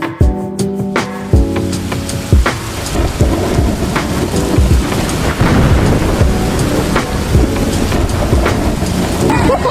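Steady heavy rain drums on surfaces with rolling thunder at an outdoor eating spot in Manila, the downpour loud and continuous throughout with scattered sharp clattering drops.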